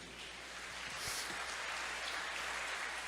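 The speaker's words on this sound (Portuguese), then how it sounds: "Vamos aplaudir ao Senhor por isso?" A church congregation applauding during a Portuguese-language sermon, a quiet, steady patter of clapping that swells slightly and holds for a few seconds, somewhat distant and soft.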